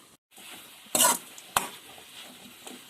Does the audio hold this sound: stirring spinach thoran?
yes